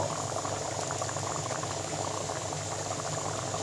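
A pot of snakehead fish curry with bean seeds bubbles steadily on the stove, giving a continuous even simmer with faint small rattles and no voices.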